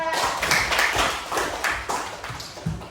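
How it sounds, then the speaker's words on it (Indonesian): Classroom clapping for a group of three students at a junior high school, several bursts of hand claps in an uneven rhythm with a voice briefly under them. "tepuk tangan bertiga"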